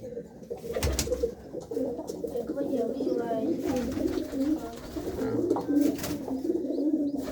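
Domestic pigeons in a breeder's loft coo softly and repeatedly in low murmuring phrases, with steady background noise and occasional rustling throughout.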